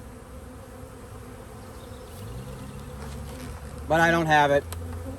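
Honeybees drone near and around a swarm trap, a continuous close buzzing under a brief spoken remark.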